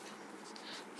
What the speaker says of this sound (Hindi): चलो थोड़ा सा अच्छे से लिखते हैं